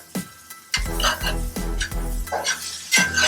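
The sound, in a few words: scraping and stirring eggplant and chicken in hot pan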